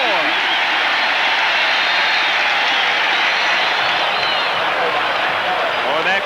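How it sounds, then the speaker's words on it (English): A packed stadium crowd at a 1984 Raiders at Kansas City football game roars loudly and steadily with cheering and clapping, while a commentator's voice runs over it. "That crowd is back in the game."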